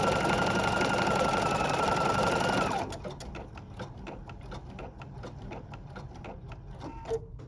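A sewing machine stitches an eyelet on a reusable felt gift tag, giving a steady, close, continuous whir for about three seconds before stopping. Quieter scattered mechanical clicks follow.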